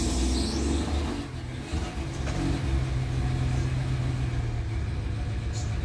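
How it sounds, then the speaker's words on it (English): Engine of an old Jeep revving as throttle is applied, a steady loud mid-pitched drone with low rumble that dips briefly then holds a sustained higher hum, close up and without talk. "Here's me giving it some throttle."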